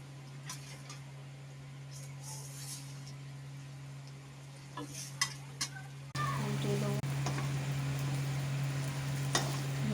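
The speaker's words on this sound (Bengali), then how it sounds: "লাল লাল করে ভাজছি" Small rounds of semolina batter fry in shallow oil, a low steady sizzle with occasional clinks of a turning utensil that grows fuller and louder halfway through.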